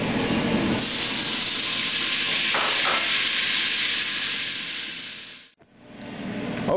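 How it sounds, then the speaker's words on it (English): Onion and garlic frying in bacon grease and olive oil, a steady loud broadband sizzle filling the pan, with a brief stir partway and a sharp dip near the end before the sizzle resumes. "We're going to add our onion and our garlic and cook them until they start to brown."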